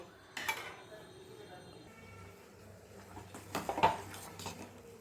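Dried palm fruit pulp being scooped out of a pan into a bowl for palm payesh: a few quiet clinks and scrapes of a spoon against metal, with sparse, faint handling noise between them.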